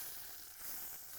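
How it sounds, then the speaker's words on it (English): Beef kebabs sizzle steadily while being basted with soya sauce and garlic flakes, a soft, even frying hiss that holds through the short moment without a break. "You can hear the sizzle."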